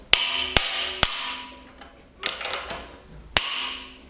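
A hammer strikes a chrome vanadium Magnusson wrench to free a bolt on a 1.9 litre 205 GTI engine, giving bright metallic clanks that ring out. Three fast blows come first, then a lone one after a short gap. No talk.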